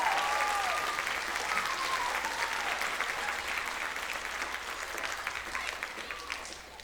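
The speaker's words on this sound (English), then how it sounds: "So please give them a round of applause" A crowd at a middle school band concert gives sustained applause for the Vinson band, a dense steady patter with a few cheers and a faint voice over it, tapering slightly toward the end.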